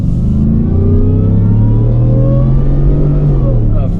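A 2022 Ford F-150 XLT pickup's engine pulls hard through its 10-speed gearbox, a loud steady roar whose pitch climbs and drops as each gear changes.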